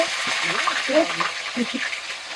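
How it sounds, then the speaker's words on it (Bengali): Fish fries in smoking hot oil in a pan, producing a bright, close crackling sizzle throughout, with a faint voice murmuring underneath. "তেল গরম হয়ে গেছে হু হু করে ধোঁয়া উঠছে মাছ ছেড়ে দিচ্ছি"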